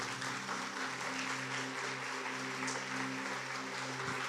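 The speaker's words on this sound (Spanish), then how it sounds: "Si quieres darle un fuerte aplauso" Church congregation applauding during a sermon, a continuous wash of many hands clapping at moderate distance over a low sustained musical hum, no speech.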